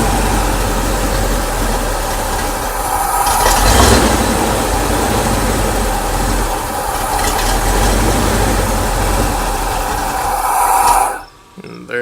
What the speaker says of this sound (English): eventually it'll start to idle and just kind of,